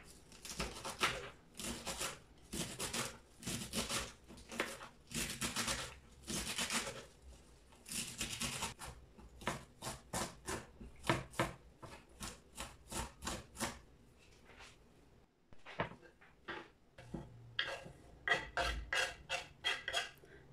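A knife chops celery leaves and stems on a board in steady runs of crisp, fairly quiet strokes, broken by short pauses and then picking up again.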